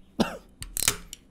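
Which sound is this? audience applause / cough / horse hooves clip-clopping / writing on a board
cough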